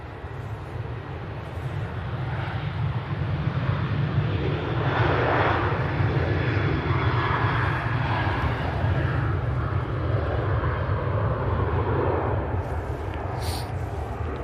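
A Ryanair jet airliner taking off at Manchester Airport, heard as a sustained, heavy engine roar that builds and holds steady throughout, with a broad low rumble and no voices over it.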